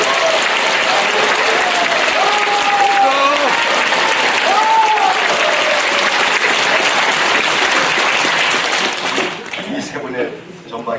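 Loud crowd applause at a Korean rally on truth and justice for past wrongs, sustained heavy clapping from a large audience with faint voices and calls within it, thinning and fading out in the last seconds.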